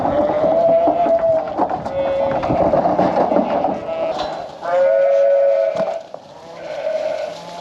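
Sheep bleat on a farm during lambing, several loud wavering calls close by, overlapping with rough background noise and some low talk.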